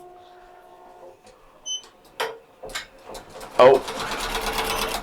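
An embroidery machine begins stitching a T-shirt after a few clicks and taps of setup, then settles into a fast, steady mechanical chatter close by, with a short spoken exclamation just before it starts.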